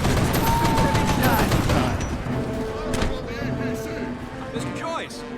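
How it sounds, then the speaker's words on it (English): Artillery strike explosions in the video game Mercenaries 2 rumble and crack in dense bursts, loud and continuous for the first couple of seconds, then settle into scattered booms and gunfire with radio chatter and voices talking over the din. "I guess I could use the artillery strike against them"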